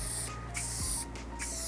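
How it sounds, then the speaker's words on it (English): Aerosol spray paint bursts onto a carbon bike frame in three short hissing blasts separated by brief pauses, loud and close with no talking. "You want to start spraying before you hit the frame, and then keep going when you've run off"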